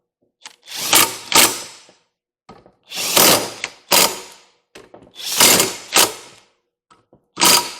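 Ratchet wrench tightening the power steering pump bolts on a Chevrolet Silverado: four bursts of rapid clicking, each with two or three quick strokes separated by short pauses, loud and close with no talking.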